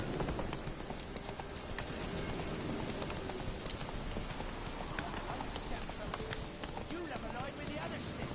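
Hooves of the horse Roach clip-clopping at a gallop in Witcher 3, a fast steady beat under a rain-like wash, with a voice speaking over it.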